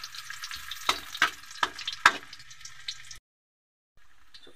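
Ginger sautéing in a hot pan for native chicken tinola, a loud sizzle broken by sharp bursts as it is stirred, then cutting out to near silence before a faint sizzle returns.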